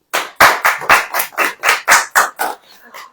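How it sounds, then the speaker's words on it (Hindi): A church congregation claps in unison, about a dozen sharp, loud claps in a steady rhythm, close and clear, slowing and fading slightly at the end. "ताली बजाइए"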